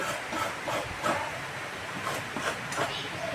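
Coconut is grated by hand for ukadiche modak, with repeated, fairly quiet rasping scrapes at an uneven rhythm against a faint background hiss.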